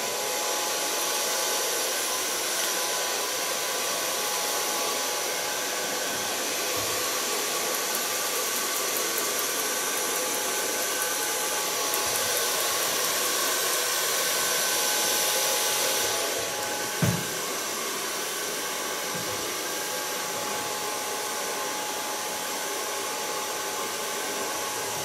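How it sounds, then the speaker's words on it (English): A hair dryer blow-drying hair, running as a loud, steady, continuous whoosh for the whole stretch, with slight shifts in tone as the airflow moves. "I'll blow dry it with the use of my fingers"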